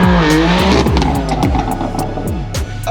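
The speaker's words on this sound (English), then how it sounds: "the car's moving" A rebuilt, formerly wrecked Mk6 VW Golf R pulls away under hard throttle, its engine revving loudly and rising through the gears with repeated pitch sweeps, close and dominant with no talk.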